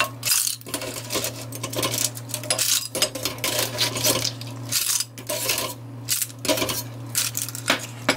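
Boiled mussel shells clink and rattle against a metal pot in quick, irregular bursts, close and fairly loud, with a steady low hum underneath.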